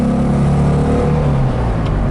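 A 1965 Porsche 356C accelerates in second gear, its engine note a loud, steady rising drone heard close up from inside the car, with no talk.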